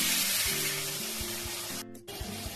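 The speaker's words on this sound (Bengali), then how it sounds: "জল দিয়ে দিচ্ছি" Water hits sizzling fried spice paste in oil while katla fish curry is being cooked, giving a steady hissing fry that dips briefly near the end and then resumes, close and fairly quiet.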